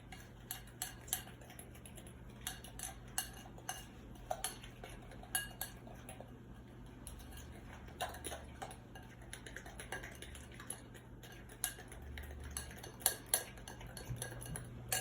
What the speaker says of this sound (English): cream that together until it's thoroughly mixed and kind of a light yellow